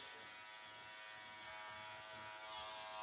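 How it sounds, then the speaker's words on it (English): An electric hair clipper buzzes steadily and close up, trimming hair around the head during a men's modern pompadour haircut, a continuous motor whine with slight variation as it moves. "you can also use the clipper almost like as a trimmer coming around"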